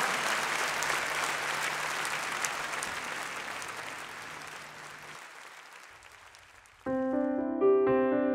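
Concert audience applauding at a live show in Yerevan, dense clapping that gradually fades over several seconds before music abruptly starts up loudly near the end.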